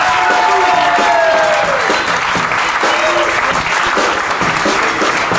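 Audience applause for a musician who plays electric and pedal steel guitar and harmonica, at a September 2021 concert in Neuville: dense, loud clapping with a few cheers and voices mixed in, holding steady throughout.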